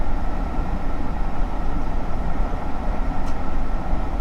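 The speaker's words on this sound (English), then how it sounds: "yes, it's a train." A train rushes past close by, a steady, loud broadband roar of wheels and rails holding level throughout.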